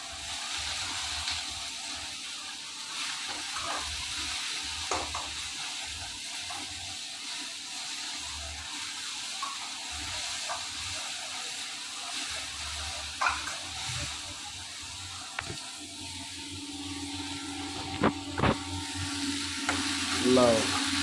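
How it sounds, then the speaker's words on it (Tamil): Onions sautéing in a pan for Maggi noodles during late-night cooking: a steady, continuous sizzle throughout, broken by scattered knocks and scrapes as the pan is stirred, growing a little busier toward the end. "கொஞ்சம் வதக்கி எடுத்துருவோம்."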